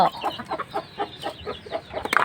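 Chickens and a rooster at a home poultry area cluck in short, repeated bursts at close range, with a busy chatter of overlapping calls and no talk.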